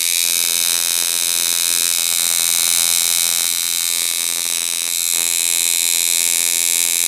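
A loud, steady electric buzz from a coil tattoo machine running at 108 hertz drones on without a break, harsh and high-pitched, close up.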